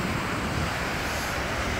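Waves breaking at Ditch Plains beach, a steady broadband wash of surf mixed with wind rumble on the microphone, continuous and fairly faint with no voices.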